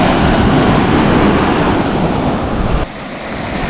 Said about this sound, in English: Some nice little waves there.